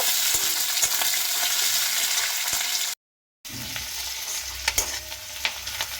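Finely chopped onions fry in oil in a pan with a steady, dense sizzle, broken by a brief moment of silence before the crackling frying carries on close by.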